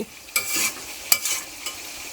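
Pieces of meat stirred and prodded in hot oil while frying in a village kitchen, a steady sizzle broken by a few distinct scraping pokes, close up with no talk.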